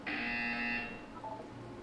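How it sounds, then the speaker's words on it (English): A single loud electronic buzzer from the Portal 2 video game sounds for under a second, a harsh steady tone that cuts off, followed by faint quieter tones and room hum. "You will hear a buzzer."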